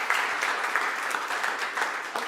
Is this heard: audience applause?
yes